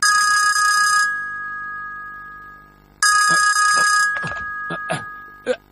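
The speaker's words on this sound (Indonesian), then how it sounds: "Telepon itu pasti Jaiko yang menelpon." An electronic telephone ring, two long bursts separated by a pause, fairly loud and close, followed by a few short thumps and clicks.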